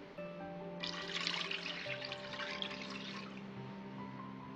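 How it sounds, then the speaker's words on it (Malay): Pandan water is poured from a measuring cup into a cooking pot, a steady soft splashing stream lasting about two seconds over a faint background hum. "Sukat 4 cawan air pandan dan masukkan ke dalam periuk."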